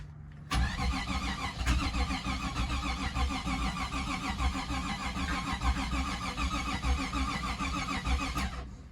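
A Jeep Grand Wagoneer turns over on a cold start in 20° weather, the starter cranking in a steady rapid rhythm for several seconds, close and alone, before cutting off abruptly.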